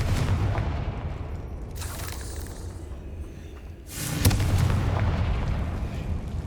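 A Confringo fire spell bursts in the video game Hogwarts Legacy, giving a booming explosion with a sharp crack and rumbling tail over a constant low background drone.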